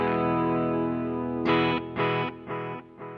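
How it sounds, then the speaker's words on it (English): Electric guitar played through an Electro-Harmonix Deluxe Memory Man 550 TT analog delay, a sustained chord followed by several repeated strums, each trailing into subtle echoing repeats with a slightly distorted, chorus-like modulated tone. "Pretty subtle, almost like a tape echo."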